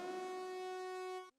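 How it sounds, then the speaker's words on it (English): A dry synthesized siren tone, washed-out and without effects, holds one steady, buzzy pitch for about a second, then cuts off abruptly. "It's just a washed out siren sort of sound."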